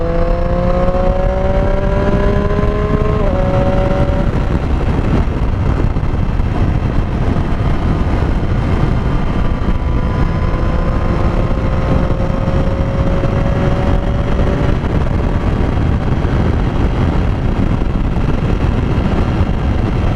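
Motorcycle engine revving and shifting through gears while riding on open road, loud and steady with rising pitch sweeps, wind noise constant throughout.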